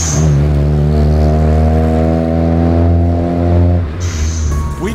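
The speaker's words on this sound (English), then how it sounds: "this company makes an electronic one that's triggered by a switch under the accelerator, and it sounds pretty legit" A revving car engine with a switch-triggered electronic blow-off valve, mounted on a non-turbo car, holds a steady loud drone that climbs briefly, then cuts off into a short hissing whoosh and fading engine noise.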